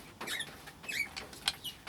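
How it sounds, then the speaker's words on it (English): A cat scraping its claws against a window, heard as quick squeaky, scratchy bursts repeated irregularly, faint and somewhat distant in a quiet indoor room. "that's one of my cats trying to get in again. It's got a thing of scraping against the windows"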